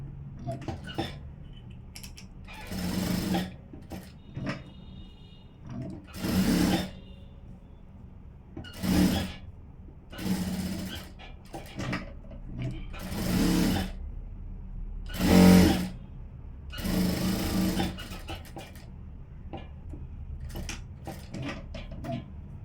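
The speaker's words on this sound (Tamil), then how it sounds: "அடுத்தது பெரிய தையல் வச்சு போட்டுட்டு" A sewing machine stitches a blouse in repeated bursts, each run of rapid mechanical whirring lasting a second or two, separated by quiet pauses with small handling clicks, close and moderately loud.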